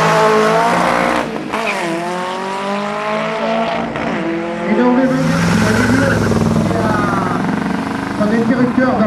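A race car at the Run Satigny 2010 event pulls away loudly and close, its engine revving up in rising sweeps through the gears, with a brief tire squeal and another engine roar building later.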